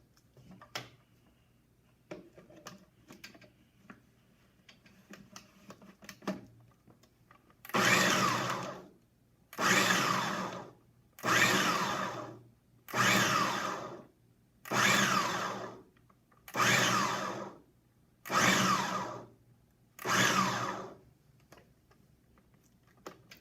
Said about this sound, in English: And then our brown sugar into our blender, and we're going to pulse it until it's crumbly.